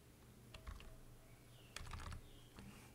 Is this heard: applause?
no